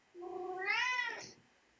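A single cat gives one clear, rising meow lasting about a second, heard alone and fairly close in a quiet room.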